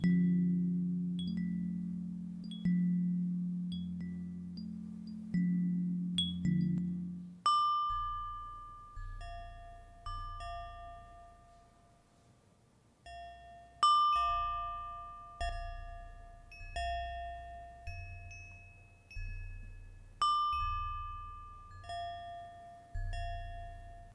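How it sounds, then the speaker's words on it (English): Wind chimes made of various materials ring out in a series of bright, struck tones with long ringing decays, several strikes overlapping, over a low hum at the start. "And here are some wind chimes of various materials."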